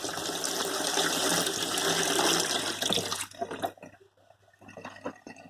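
Boiled beetroot and its cooking water are tipped into a kitchen sink: a loud gushing pour for about three seconds, then scattered drips and splashes trailing off.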